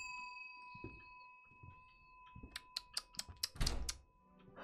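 A bell rings in a scary video game, a quick series of about eight bright, evenly spaced strikes over a faint steady hum, with a few soft knocks before.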